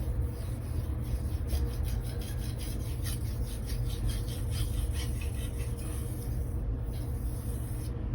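Steady rasping scrape of a 240mm Blue Super steel gyuto drawn over a Naniwa whetstone, continuous and close, with repeated strokes blending into an even grinding texture and no talk.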